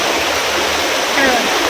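River in Konkan, Ratnagiri, swollen and muddy after heavy rain, rushing and gurgling in a loud, continuous close wash.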